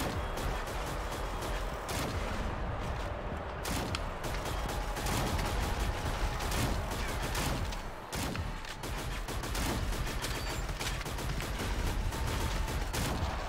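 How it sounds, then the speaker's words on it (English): Rapid bursts of gunfire strike a pillar in the Shadowgun Legends PvP shooter game, dense, loud and continuous, with sharp repeated shots and mechanical clatter throughout. "How many bullets you gonna shoot on the pillar"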